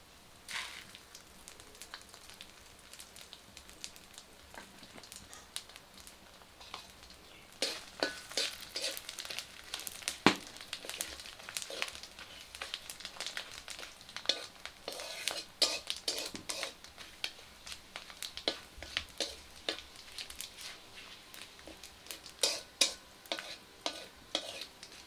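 Fenugreek, radhuni and cumin seeds fry in hot oil in a pan in a village kitchen, giving a steady soft sizzle with frequent sharp pops and clicks of stirring throughout.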